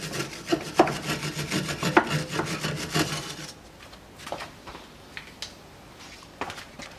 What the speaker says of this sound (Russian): Здесь немножко чистим резьбу сверху и вот снизу, где у нас будет откручиваться.